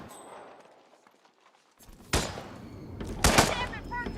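Gunfire crackles in Freedom Fighters: after a quiet stretch, a few sharp, loud shots ring out close by in a short burst, with muffled voices talking underneath.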